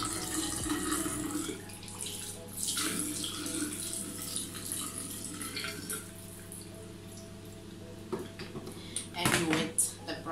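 A tap runs steadily while someone wets their face at a sink, with splashing and a few clinks under a soft hum and some quiet talk.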